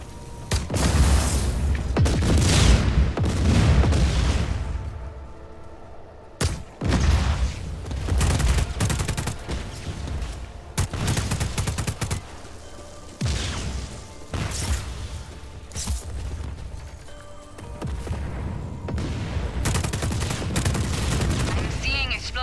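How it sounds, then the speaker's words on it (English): An underbarrel grenade launcher fires repeatedly in the game Just Cause 4, loud booming blasts and crashing explosions coming in rapid bursts with short pauses, alongside occasional gunfire and brief spoken lines. "An underbarrel grenade launcher."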